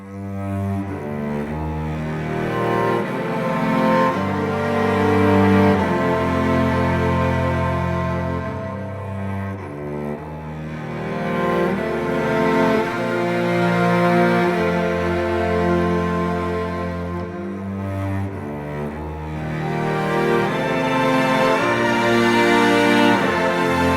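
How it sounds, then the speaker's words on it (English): Layered orchestral strings swell through slow, sustained chords, full and lush, rising and falling in volume with no voices. "So all the strings together sound like this."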